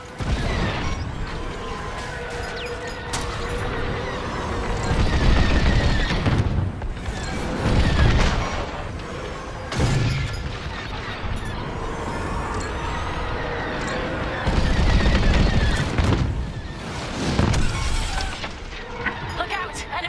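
Starfighter combat rages in Star Wars Squadrons, with booming explosions, blaster fire and rumbling engines swelling and fading in loud bursts, while voices talk over the action.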